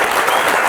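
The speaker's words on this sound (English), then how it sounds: "je vais vous demander de faire un tonnerre d'applaudissements pour Daniel Brühl" A dense burst of audience applause for actor Daniel Brühl at an ECAL masterclass, loud and close, steady clapping filling the short moment without a break.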